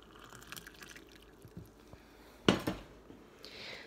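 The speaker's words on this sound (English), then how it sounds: "Then to top it all off, I add my warm water." Warm water poured into a juicer jug while a smoothie for IBS symptoms is made at home, heard as a short splashing burst midway between quieter handling clatter and a faint hiss near the end.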